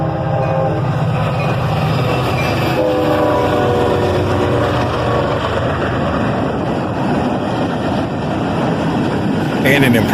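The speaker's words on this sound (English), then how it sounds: "the northbound train arrived" A northbound CSX intermodal freight train arrives with a loud, steady rumble of locomotives and rolling cars. Horn tones sound early on, and wheels clatter close by.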